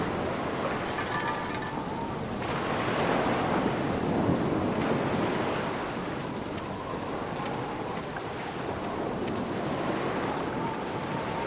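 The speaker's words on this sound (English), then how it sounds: "It's at least 50 feet down, given the reverberation of the waves." Ocean waves surge and wash at the foot of a cliff in the video game The Black Mirror, a steady, distant roar of surf with wind, swelling softly at the midpoint.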